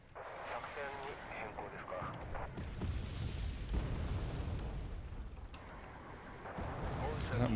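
Mortar fire in the real-time strategy game Wargame Red Dragon: muffled, distant booms and rumbling blasts scattered under continuous battle ambience and a voice talking.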